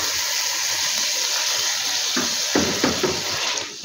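Peas and tomato paste fry with chicken in a pan, a steady sizzle with a few stirring scrapes near the end.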